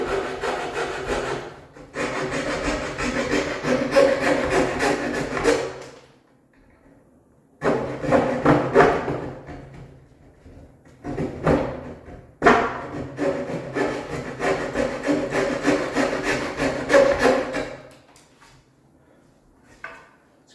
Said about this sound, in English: Let the saw do the cutting.